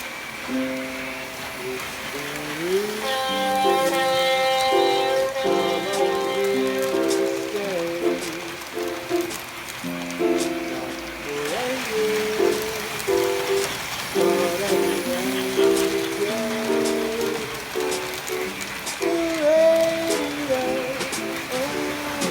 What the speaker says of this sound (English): let's run some trains